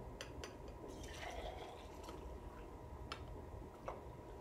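Warm water poured from a container into a vessel holding activated glow sticks, a soft, steady liquid trickle with a few light ticks and splashes, faint and close, with no voices.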